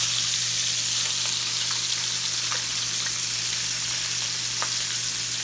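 A chicken wing fries in butter in a hot pan, giving a steady, dense, close sizzle with a faint low hum underneath and a few small pops scattered through it.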